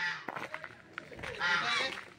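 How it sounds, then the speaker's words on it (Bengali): Many ducks honk and quack together nearby at a camp at the foot of Ayodhya Hills, Purulia, a busy overlapping chorus of waterfowl calls with no talking. "এই দেখো এখানে হচ্ছে প্রচুর হাঁস।"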